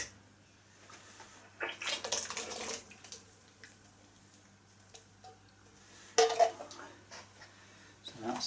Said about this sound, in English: I'm just going to swirl my hands a second.